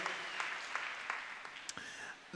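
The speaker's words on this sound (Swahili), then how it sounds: "Hebu piga makofi mengi yanayoeleweka ya shangwe." A church congregation claps and cheers at a preacher's call, applause scattered and fairly faint, with a voice rising over it.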